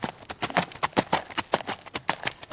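Horses running, their hooves clip-clopping in a fast, uneven rhythm of sharp hits at moderate distance, with no talk.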